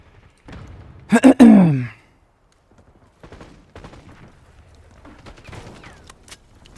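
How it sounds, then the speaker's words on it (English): Flashbang grenades going off in an online shooter game, a loud cluster of sharp bursts early on, then fainter crackling and muffled game noise with a player's voice. "Oh, the fucking flashbangs!"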